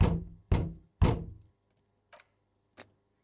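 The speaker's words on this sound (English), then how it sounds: "can I knock on the door?" Knocking on a door in the video game Disco Elysium: three firm, resonant knocks in a steady rhythm, followed after a pause by two fainter, isolated taps.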